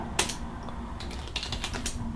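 Quick, steady keystrokes clatter on a computer keyboard at a Linux workstation, close and fairly quiet, with a low hum running underneath.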